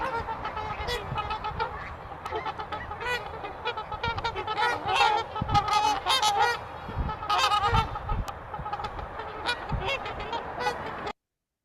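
Trumpeter swans calling in a field, a continuous chorus of loud, overlapping honking notes with bursts and pauses, fairly close and without talk.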